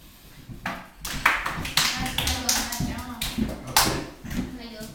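Scattered hand claps from a small class gathered for a lesson on Surat Al-Falaq, sounding as irregular uneven bursts at close range, mixed with voices talking over them throughout.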